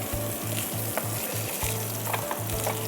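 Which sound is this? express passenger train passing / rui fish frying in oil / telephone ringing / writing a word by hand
rui fish frying in oil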